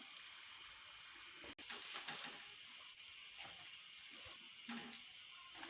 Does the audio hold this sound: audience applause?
no